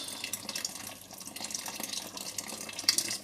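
Water pours steadily into a cooking pot while a peanut butter sauce is being made on the stove, a continuous splashing, trickling stream close by with no talking.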